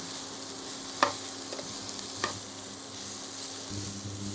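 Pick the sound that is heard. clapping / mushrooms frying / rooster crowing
mushrooms frying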